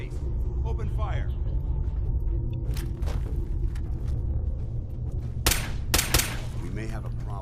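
Gunfire in Fallout 4 crackles as several sharp shots and short bursts over a constant low rumble, with a loud cluster near the end, while a voice talks in between.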